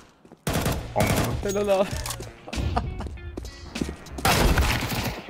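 Bursts of rapid gunfire from Counter-Strike 2 rattle in clusters across the round, mixed with in-game effects and under lively talk from players.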